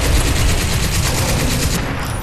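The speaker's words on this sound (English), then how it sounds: "you might be able to take it out with the M60 in one ammo clip" An M60 machine gun fires loudly and without a break in Crysis 2, the rapid rhythmic shots close and dominant, ending just before the close.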